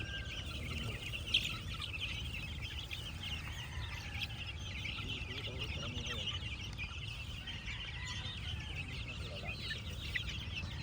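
Gamefowl chickens, including hatch gray birds, clucking on a farm, steady faint overlapping clucks and murmurs over a constant low rumble of background noise.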